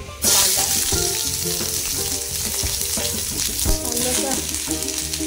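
Onion fries in hot oil in a kadhai, a loud, close, continuous sizzle broken by a few scraping stirs, with no talk over it.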